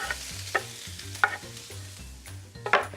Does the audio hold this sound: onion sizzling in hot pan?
yes